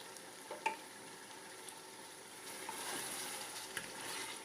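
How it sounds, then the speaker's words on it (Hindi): Beef frying for nihari in a pan, a soft steady sizzle with faint stirring clicks, low and close, with no talking. "गोश्त को भूनते हुए 4 मिनट हो गए हैं।"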